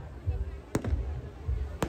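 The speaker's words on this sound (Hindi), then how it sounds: "और देखिए कितने प्यारे अनार जल रहे हैं, कितने बम पटाखे वहाँ जला रखे हैं।" Fireworks at a Dussehra fair in Kalka, with sharp firecracker bangs cracking out twice over a low rumbling crowd and fountain fireworks burning nearby.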